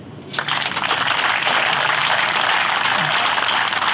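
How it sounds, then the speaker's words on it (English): Dense, loud applause from a large crowd at a university dairy plant event, sustained steadily for several seconds after a brief quieter start. "Let's hear that clapping."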